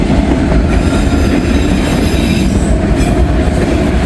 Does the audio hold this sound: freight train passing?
yes